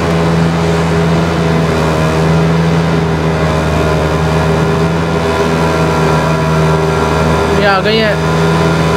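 A Kawasaki ZX-10R motorcycle engine drones loudly and steadily at a drag race. The bike is close and runs at high revs with a brief rising whine near the end, and someone speaks briefly over the engine noise.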